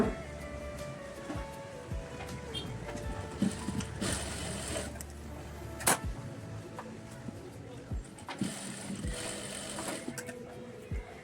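A sewing machine stitches the shoulder seam of a katori blouse, whirring in short runs with clicks and mechanical clatter between bursts, close and clear.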